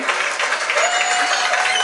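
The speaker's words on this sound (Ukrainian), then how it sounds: "дякую за ваші оплески" An audience applauds at a doll concert held inside the Roshen shop in Kyiv, with dense, lively clapping close by and a faint tonal note running under it.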